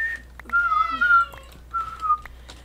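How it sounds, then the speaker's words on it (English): A house cat meows several times in short drawn-out calls, rising and falling, fairly close and clear over a quiet background hum. "I just hear your cat."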